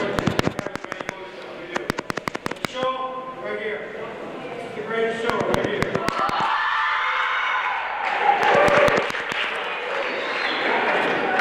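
Crowd at a girls high school basketball game applauding and cheering in a gym, with sharp bursts of clapping early on giving way to a louder, sustained roar of voices and applause, while a commentator talks over it.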